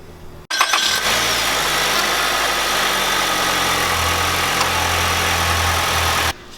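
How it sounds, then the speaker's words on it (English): A 2020 Nissan Altima engine cranks and catches with a sudden roar, then settles into a steady, close idle hum for several seconds before cutting off. "We'll start the engine and we'll check for leaks underneath the car."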